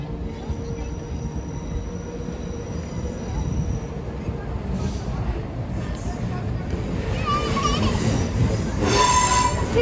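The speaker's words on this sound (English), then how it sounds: "First train approaching." A train rumbles through a level crossing on Lincoln High Street, with a steady heavy rolling roar and wheel noise that builds slightly over about ten seconds and is heard close by.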